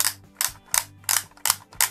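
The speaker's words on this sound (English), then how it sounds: "here this is where you wind on the film." Winding the film on a Mickey Mouse Clubhouse toy camera gives a plastic ratcheting click: six sharp, evenly spaced clicks over two seconds, close and fairly loud, with no talking.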